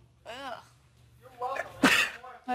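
A person sneezes outdoors, one sharp burst after some brief talking, close and fairly loud, with more speech around it.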